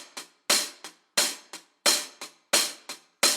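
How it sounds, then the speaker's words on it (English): A loose open hi-hat loop, live-tracked on a real hat, from a hi-hat sample pack. Bright hissing hits ring out and decay in a swung pattern, alternating loud and softer strokes, heard alone and up close. "the new stuff that we have is this loose hats loop"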